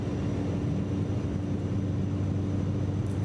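A Cessna Caravan turboprop in MSFS 2024 drones steadily and loudly under throttle, a continuous engine hum with a constant tone and no pauses or talk.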